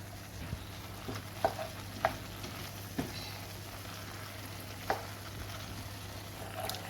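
Tinned tomatoes with black pepper and smoked paprika stirred in a pan over rising heat for a plant-based sausage and sweet potato casserole, a soft steady sizzle broken by a few sharp spoon knocks against the pan.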